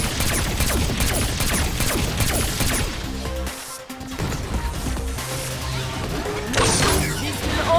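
Rapid gunfire in the shooter game Agents of Mayhem, dense loud bursts with crashes and mechanical clanks throughout, a brief lull midway, and voices under the action.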